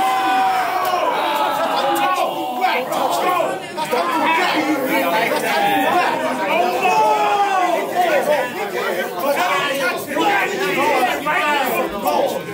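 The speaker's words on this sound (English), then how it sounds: "You see the way, you see the way the crowd reacting? They going crazy from them stupid lines." A rap battle crowd at a battle event erupts in loud, dense chatter, shouts and excited hollering, a continuous wall of close crowd noise with voices overlapping throughout.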